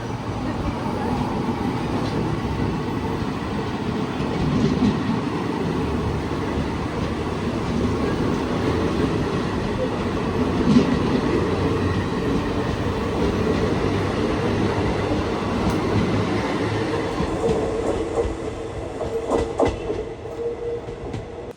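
The Jamnagar–Tirunelveli Express approaches on the railway near Uthralikavu in Kerala. A steady, heavy rumble of rolling wheels and rail noise carries throughout, with faint clacks building toward the end. No one speaks.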